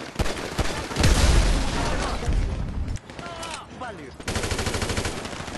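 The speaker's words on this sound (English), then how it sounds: "I don't know if I was shooting anybody there or not." Gunfire rattles in Grand Theft Auto V, a mix of rapid automatic bursts and sharper single shots, loud and close, with shouting game voices during a quieter middle stretch.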